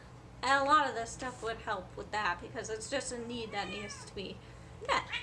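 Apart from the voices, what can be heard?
cat meowing in the background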